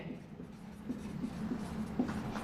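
A pen scratches steadily across a writing surface during a lecture on vibrational-rotational spectroscopy, a soft continuous scraping with faint strokes under low room noise.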